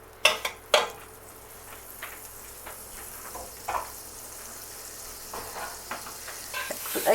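Butter sizzles steadily in a hot electric frying pan set to 7 while an omelette is prepared, with a continuous crackling hiss broken by a few sharp clanks of utensils against the pan near the start.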